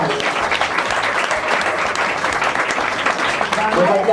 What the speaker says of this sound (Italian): Lo paghiamo per fare degli applausi.